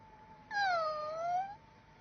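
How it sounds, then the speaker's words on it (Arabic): A cat gives a single drawn-out meow lasting about a second, close and clear, over a quiet background. "ما اسم هذه القطة الجميلة يا آنسة؟"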